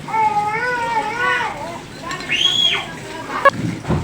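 Children play noisily nearby with high, sliding shrieks and calls, a steady background din with occasional splashy knocks.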